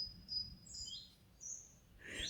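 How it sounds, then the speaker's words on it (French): Faint, high bird chirps and short whistled phrases in an outdoor natural setting, a few scattered calls over a quiet low rumble, ending with a louder burst. "Je crois que l'oiseau a décidé de participer à la vidéo"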